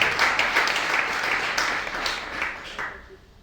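Audience applause fills a church during a sermon, a dense wash of clapping that holds steady and then fades out toward the end.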